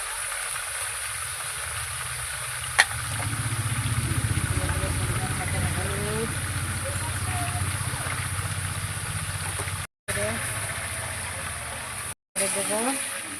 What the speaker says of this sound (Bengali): দিয়ে দেবো কিছুটা লবণ সবজির ভিতরে কষাবার জন্য।